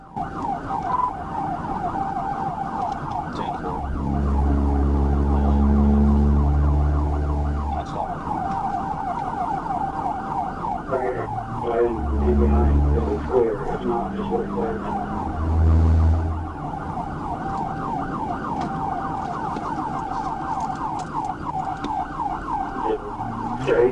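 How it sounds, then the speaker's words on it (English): A police siren wails, cycling steadily throughout, with heavy low engine rumbles swelling in bursts underneath, suggesting a vehicle driving close by. "I continued to follow the vehicle with blue lights and sirens"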